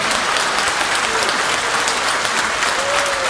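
Loud, dense ovation from a concert audience at the Yaroslavl Philharmonic after a performance by the Loktev Ensemble, continuous close clapping filling a few seconds, with a faint whistle or cheer rising through it.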